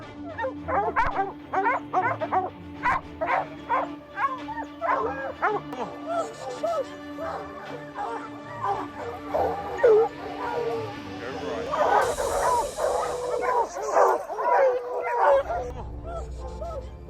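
Hunting dogs bark and yip in a rapid, excited chorus, with some whimpering mixed in, loud and sustained throughout amid outdoor hunting commotion.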